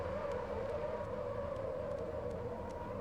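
A car in the video game Cyberpunk 2077 gives off a steady, sustained droning whine with a rumbling low end, unchanging and continuous throughout, with no talking.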